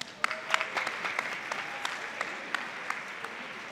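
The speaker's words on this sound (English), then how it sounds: "Give yourselves a round of applause." An audience at a high school orchestra finale concert claps for a few seconds, the claps fairly sparse and distinct, with individual sharp hand claps standing out above a thinner wash.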